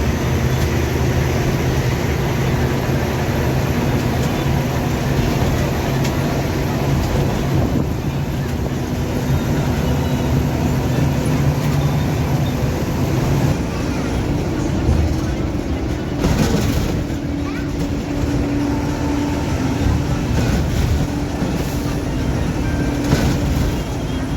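A bus on the highway from Delhi toward Haridwar rumbles steadily while overtaking an Uttar Pradesh bus, with loud engine drone and wind buffeting, and a voice speaks over the noise.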